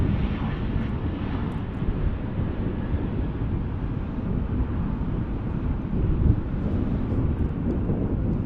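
An airplane at Dallas/Fort Worth International Airport produces a steady, loud jet roar with broad wind-like noise throughout, no talking.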